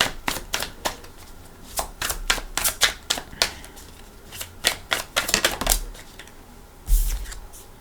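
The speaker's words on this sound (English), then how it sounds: "Let's shuffle for your cards." Tarot cards being shuffled by hand in a quiet room: a string of crisp riffling bursts and soft slaps, some clustered and some spaced apart, close and clear, with a louder thump near the end and no talking.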